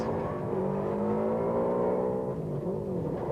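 A rally car engine during a stage of the 1990 Mobil 1 Rally drones loud and steady, its pitch holding and then dipping slightly as the car runs down the stage.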